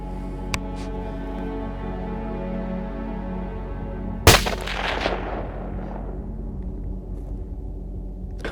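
A single rifle shot fired at a whitetail deer in snowy Alberta country, one sharp loud crack followed by a long fading echo over a steady low background rumble.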